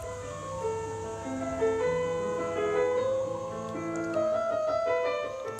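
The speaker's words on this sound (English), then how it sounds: "Not ice cream, but bread truck." A bread truck playing its jingle, a bright chiming melody of stepped notes ringing out steadily and fairly loud outdoors, with no voices over it.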